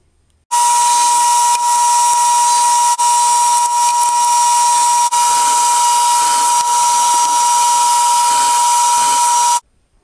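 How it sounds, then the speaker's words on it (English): Power tool cutting a slot across a wood panel for a floor panel in an RV storage build, a loud, continuous high-pitched whining cut lasting about nine seconds with brief dips, starting and stopping abruptly. "Here is where I'm going to have a slot cut across here"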